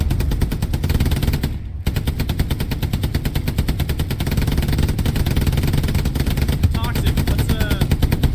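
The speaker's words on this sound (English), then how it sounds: "Go and light him up with the MG." A tank bow machine gun on a Panzer IV in Hell Let Loose fires long, rapid, loud bursts close up, with a brief pause early and engine rumble beneath, while crew voices talk over it.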